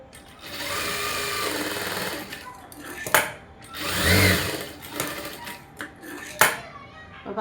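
A sewing machine stitches a blouse in steady bursts of close, loud running, pausing between runs with handling clatter, with no talk over it.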